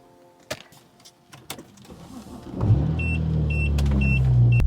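A car door thuds and clicks, then the engine starts and settles into a steady low rumble as the vehicle gets going, with faint periodic chimes above the idle.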